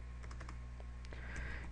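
Computer keyboard keys tapped in short irregular bursts while text is entered for a CSS classes and divs lesson, close and fairly soft, with no talking.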